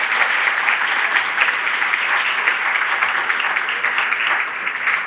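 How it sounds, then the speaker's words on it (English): Audience applause for three candidates at the Trempealeau County Fair opening ceremony; a loud, even wash of clapping from a large crowd, sustained for several seconds with no break. "Give these three one last round of applause."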